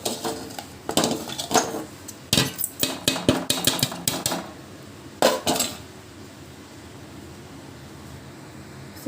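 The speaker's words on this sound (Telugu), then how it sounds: "ఇప్పుడైతే మనం పోపు వేసేసుకుందామండి." Whole tempering spices dropped into a hot pan of oil for tamarind rasam, giving a burst of crackling, clinking and sizzling for about four seconds, then a brief flare before settling into a quiet steady hiss.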